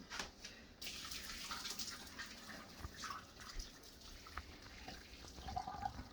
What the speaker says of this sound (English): I'm gonna take my broccoli and I'm gonna drain it, get all the water out.